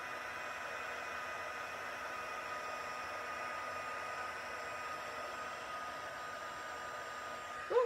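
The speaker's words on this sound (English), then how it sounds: "I just absolutely love the magic of heat embossing." A heat gun blows a steady, even whoosh of hot air while heat embossing powder on a handmade card, a continuous level roar with no break, ending with a brief faint voice at the very end.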